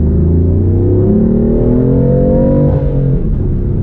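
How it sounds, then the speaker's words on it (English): A BMW M4 exhaust revs up with a deep, rising rumble, held loud and close, then eases off briefly before droning on. "So here's that exhaust."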